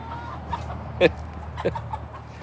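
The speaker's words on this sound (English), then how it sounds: "Sissy, what is that chicken doing?" A chicken on a farm gives a few short clucks, moderately near, over a steady low outdoor background hum.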